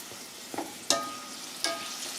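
Food drops into oil heated to 450 degrees Fahrenheit in a pan and flash fries with a quiet, steady sizzle, broken by a few sharp spatters and clinks.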